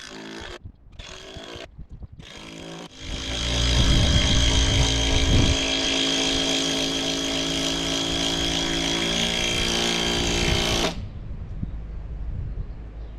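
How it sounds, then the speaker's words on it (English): A power tool whines loudly for about eight seconds while driving a screw into a run-in shelter, a steady high motor drone that starts abruptly after a few short clicks and cuts off sharply. "Now all I gotta do is drive in some screws"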